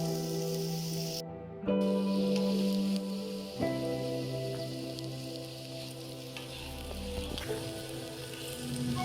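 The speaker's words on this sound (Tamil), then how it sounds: "இது நல்லா ஃப்ரை பண்ணி கோல்டன் ப்ரௌன் வர்ற மாதிரி நம்ம ஃப்ரை பண்ணி எடுத்துக்கணும்" Baby potatoes frying in hot oil in a pan until golden brown, a steady crackling sizzle with occasional stirring and clanks, heard alone with no talk.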